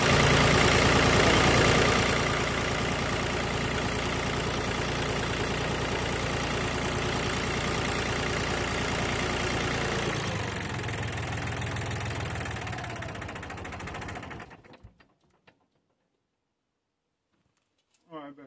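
Tractor engine restarted during maintenance, running loudly at first, then settling into a steady close idle with a rhythmic knock before cutting out and falling silent near the end.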